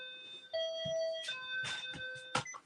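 Doorbell ringing in a home, a faint series of clear electronic chime tones sustained over a couple of seconds, with brief clattering knocks and bumps mixed in.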